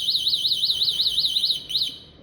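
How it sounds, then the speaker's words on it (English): A modified Zero 10X electric scooter alarm arming with a rapid warbling electronic siren, about ten quick rising-falling chirps repeating steadily, loud and close, then cutting off abruptly. "Switch off the scooter and set the alarm clock."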